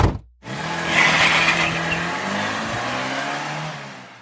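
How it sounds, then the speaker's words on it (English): A car pulls away with a rising engine rev and a brief tire squeal, the sound loud and close at first, then settling into a steady hum as it drives off. "Now I just hop in the car and drive."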